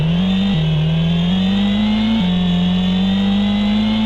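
A racing car in a video game accelerates at full speed, its engine whine climbing steadily with brief pitch drops at gear shifts. The tone is loud and continuous with no talk.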